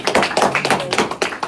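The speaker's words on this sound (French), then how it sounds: "Allez, on peut applaudir là, c'est lourd hein, ce qu'il a fait." A small audience claps hands, with distinct, fairly close claps in an uneven rhythm over about a second and a half.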